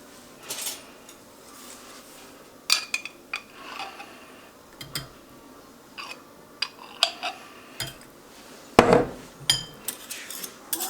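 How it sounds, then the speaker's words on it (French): A spoon clinks and scrapes against a slow cooker pot while honey and hoisin sauce are stirred together for honey garlic chicken, giving scattered sharp taps at an irregular pace with quiet between them. "voilà, on mélange un petit peu."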